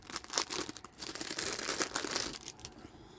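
Packaging around macrame photo holders crinkles and rustles as it is unwrapped, in faint, close, irregular crackles and rustles with no talk.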